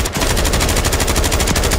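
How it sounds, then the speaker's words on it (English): Sustained automatic gunfire from Call of Duty Warzone on the Fortunes Keep map, a rapid, even stream of loud close shots filling the whole stretch with no talk. "All kinds of gunshots."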